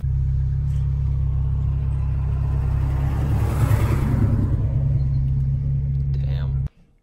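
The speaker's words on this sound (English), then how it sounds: "So that is like a 60s GTO, I think." A 1960s Pontiac GTO gives off a loud, steady, deep engine rumble that swells slightly midway, then cuts off abruptly near the end.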